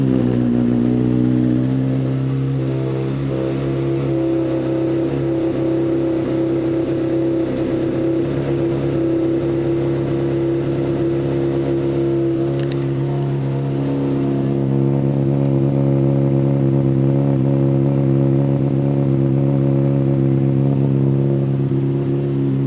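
A 2014 Honda CBR600RR motorcycle engine runs loud and close, a steady, droning rev that holds a constant high pitch for the whole stretch, with slight swells and no talking.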